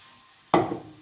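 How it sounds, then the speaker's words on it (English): Onions and celery hit a hot pan with a sudden sizzle, a sharp burst of frying that settles into a crackling hiss for the rest of the brief moment. "So here I am frying some onions and celery in this side here."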